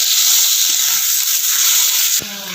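Onion and tomato roasting in a hot pan for green chili thecha, a steady, loud sizzle and hiss that drops slightly near the end.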